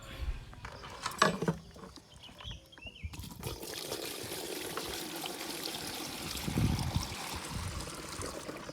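Water is poured to mix pesticide for spraying a cassava crop, a soft, rushing splash that runs steadily through the latter part after a few brief clinks and rustles, with faint voices nearby.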